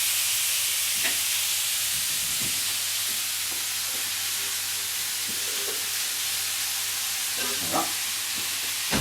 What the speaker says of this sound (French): On laisse bien saisir la viande.